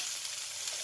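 Green beans and chana dal frying in a pan, a steady close sizzle with no break and no voices.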